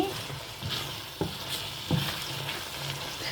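Tomato rice sizzles steadily in a hot pan while a utensil scrapes and stirs, with a couple of sharper knocks against the pan.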